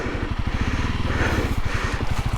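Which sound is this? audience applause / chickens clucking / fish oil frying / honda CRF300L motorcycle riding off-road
honda CRF300L motorcycle riding off-road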